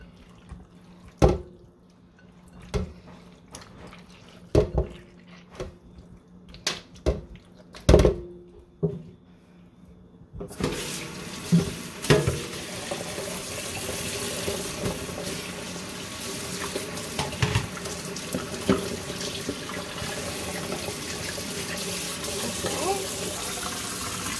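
Liver and pork are rinsed in a sink, with scattered drips and splashes at first, then a tap opens into a steady, loud rush of running water with sloshing as the meat is drained.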